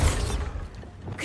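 A Bombarda blasting spell goes off in the Hogwarts Legacy video game, a short, close whooshing burst with a crackling, shattering edge that quickly fades.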